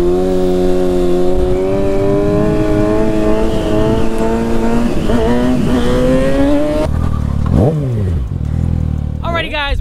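A brand new Kawasaki ZX6R with its exhaust removed roars loudly and steadily for about seven seconds, its pitch climbing, then revs sharply in quick bursts as it passes close by.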